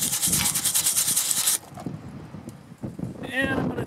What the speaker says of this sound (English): While I've got the cover off, might as well clean up the magnet on the flywheel.